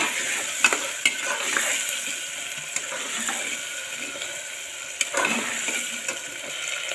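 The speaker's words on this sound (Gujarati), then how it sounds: "હવે આલુ અને ડુંગળી મિક્સ કરીને ચોળવી લઈશું અને સારી રીતે મિક્સ કરી લઈશું।" Potatoes and onions stirred in a pan for spiced rice, with a spoon scraping and clinking against the metal over a soft continuous sizzle, no voices.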